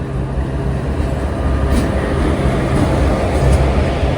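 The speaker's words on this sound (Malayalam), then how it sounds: "ഇതാ പാമണി എക്സ്പ്രസ് കടന്നു വരികയാണ്" Pamani Express, hauled by a WAP4 electric locomotive, arrives at platform 4 with a steady, loud low rumble of wheels and rolling stock that builds slightly toward the end, with no voices.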